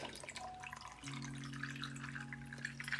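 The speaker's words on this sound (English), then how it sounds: "Pour that in a nice cup of ice" Sports drink poured into a cup of ice, a soft continuous trickle and splash over a steady low electrical hum, fairly quiet and close.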